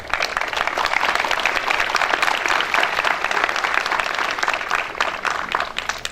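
Wedding guests break into loud, sustained applause, a dense steady clapping from a sizeable crowd that carries on without a break for several seconds.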